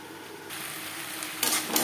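A spoon stirs spiced potatoes and drumstick pieces in a pan with a soft sizzle underneath, scraping steadily, then a couple of sharper utensil knocks against the pan near the end.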